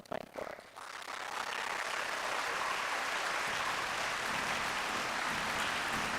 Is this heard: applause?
yes